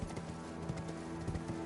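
Horse hooves clip-clop in a quick steady rhythm while riding across open ground in Elden Ring, fairly faint under a steady droning game ambience.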